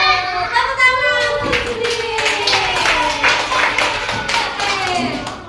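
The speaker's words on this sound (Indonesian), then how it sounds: "Tepuk tangan." A class of children claps together after a group discussion, a busy patter of hand claps with children's voices and tonal calls mixed in throughout.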